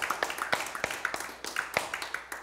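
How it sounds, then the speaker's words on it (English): Rhythmic unison hand clapping from a church congregation, sharp and evenly paced claps repeating steadily, fairly close and with no talking over it. "Give the Lord a hand clap"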